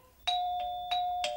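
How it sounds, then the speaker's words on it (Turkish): A household doorbell ringing, a bright electronic chime sounding in about four quick repeated tones, clear and moderately loud indoors with no voices over it. "kapı mı çalıyor, bana mı öyle geliyor? Zil anne."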